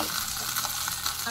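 Food sautés in a hot pan with a dense, continuous sizzle and crackle, close and fairly loud throughout.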